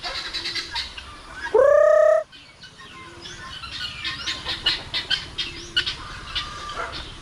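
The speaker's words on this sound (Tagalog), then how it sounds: "kalakas lumipad yung mga bingala" A flock of farmyard fowl takes off near a hut: one loud, harsh squawk rings out, then a quick flurry of wing flaps and rustling follows close by.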